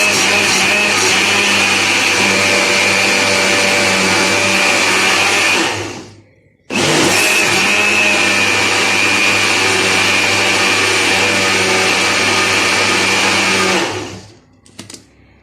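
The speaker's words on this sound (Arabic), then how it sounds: "هنحطهم بقى في الخلاط ونضربهم." A loud blender whirs steadily mixing sauce and eggs, stops briefly, then runs again for several more seconds before cutting off.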